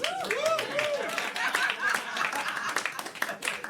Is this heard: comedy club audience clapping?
yes